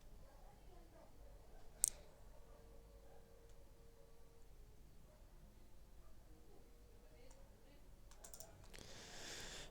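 Computer mouse clicking on a laptop: one sharp click near the start, then a quiet stretch and a small cluster of faint clicks near the end, with no speech.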